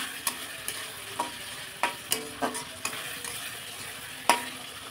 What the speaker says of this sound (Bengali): এবার আরও কিছুক্ষণ আমি কষিয়ে নেব।